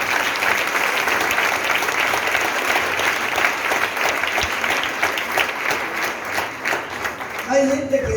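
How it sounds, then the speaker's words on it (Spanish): A church congregation gives loud, sustained applause throughout, with a faint voice surfacing near the end as it tapers. "Aplauso fuerte al Señor."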